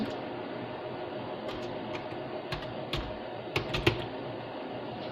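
Steady, soft clicking of a computer keyboard as text is typed into an Excel spreadsheet, a few louder key strikes standing out over a constant room hum.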